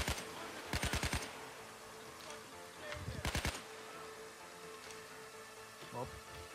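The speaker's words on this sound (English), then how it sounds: "I guess I can start using my assault rifle now." An assault rifle in the video game Payday 2 fires two short, loud rapid-fire bursts, separated by a few seconds of quieter game ambience.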